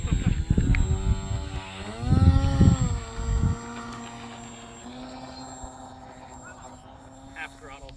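Electric motor of an FT Versa wing RC model airplane running at half throttle, a steady whining tone with harmonics that dips and rises, heard close with people talking over the first few seconds.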